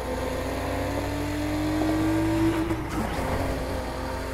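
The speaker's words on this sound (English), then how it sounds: "You can't hear my horn cause my car so loud." Loud car engine in a video game, a steady sustained drone with a slowly rising tone, continuous and close throughout with no voices.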